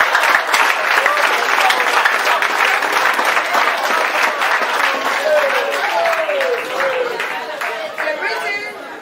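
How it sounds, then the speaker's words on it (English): An audience claps steadily at a school gathering while people chatter and call out over it, the clapping staying loud and close throughout. "Maybe you need a clap for us."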